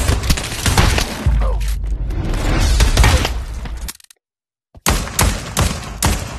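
Video game gunfire rattles in a dense, loud burst of rapid shots for about four seconds, cuts to brief silence, then resumes with more shots.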